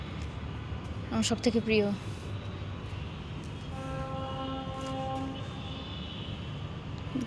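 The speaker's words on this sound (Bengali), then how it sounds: "ট্রেনের এই যে হুইসেলটা বা এই হর্নটা, এটা বাজলেই মনে হয় কোথাও একটা বেড়াতে চলে যাই" A train horn sounds from a rooftop at night near a railway bridge: a steady, moderately distant chord held for about two seconds, after a brief burst of speech.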